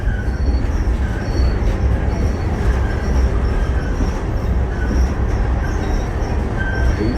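Train easing into a rail siding in North Dakota, a loud continuous rumble of wheels on track with high metallic squeals ringing intermittently above, heard from on board.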